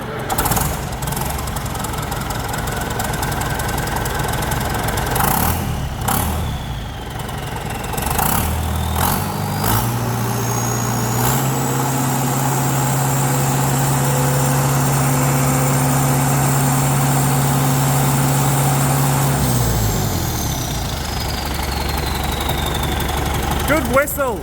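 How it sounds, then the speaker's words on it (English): A John Deere 6310 tractor engine runs steadily after an injector change, a loud close diesel idle that rises into a sustained higher whine with a whistle, then drops back, while people talk over it. "Now that the tractor is running again"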